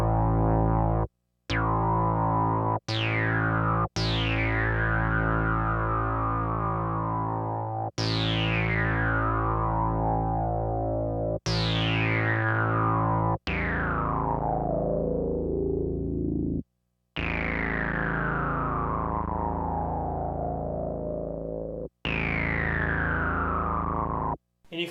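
A Minimoog synthesizer plays a series of sustained, buzzy notes with resonant filter sweeps, the tone gritty and distorted at high emphasis, each note ending in a brief gap before the next.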